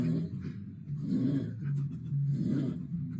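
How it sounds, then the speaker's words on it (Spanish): A man snores heavily in a prank clip, with deep, rasping, rhythmic breaths rising and falling about every second and a half, loud and close, with no talk over it. "No, este es un tío roncando."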